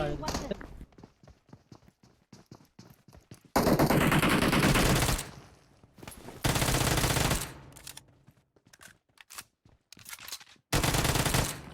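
Automatic machine-gun fire from PUBG Mobile comes in several loud, sustained bursts of rapid shots, separated by quieter stretches of footsteps and sparse single sounds.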